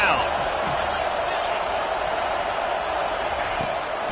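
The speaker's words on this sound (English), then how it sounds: "Here comes this home crowd as the defense tries to get off the field on 3rd down." Home crowd at a college football game roars steadily as the defense tries to get off the field on third down, a dense, continuous wall of stadium cheering with no break.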